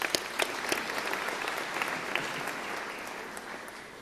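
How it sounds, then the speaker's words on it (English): An audience at a school matric results celebration claps in a sustained round of applause, with a few sharp, close claps standing out early over the steady background clapping. "may I give a big applause for that."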